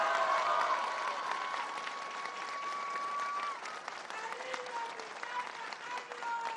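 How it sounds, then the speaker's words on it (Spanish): A crowd at a public assembly in Amealco de Bonfil, Querétaro, Mexico, applauds steadily throughout, a dense wash of clapping with a long whistle-like tone and scattered cheers rising over it. "de que llegara el presidente López Obrador, vamos a mandarle un aplauso de aquí hasta Palenque."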